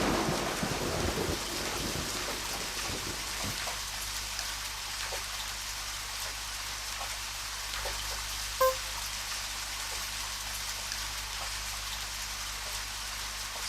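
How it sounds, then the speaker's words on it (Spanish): In the video game Deadly Premonition, a faint rain shower begins as a soft, continuous hiss under a low steady rumble, with a brief louder sound at the start and a single soft knock partway through. "Y se largó a llover,"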